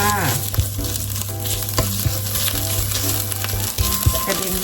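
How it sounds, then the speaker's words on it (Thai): Spicy homemade red curry paste is stir-fried in a hot pan, sizzling loudly and constantly while a spatula scrapes and knocks against the metal in irregular strokes, with no talking. "ผัดพริกแกงให้หอมค่ะ"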